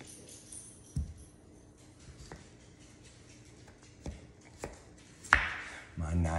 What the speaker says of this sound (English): My knife skills probably aren't as good as Brenda Gantz, but I can get the potatoes cut.